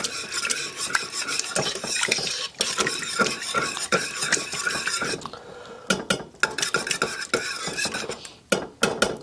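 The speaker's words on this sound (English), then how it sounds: "Just going to kind of mix that in together just a little bit." Beef stock being stirred in a crockpot: continuous scraping and sloshing strokes of a utensil against the pot, close and busy, with brief pauses and a few clinks toward the end, no voices.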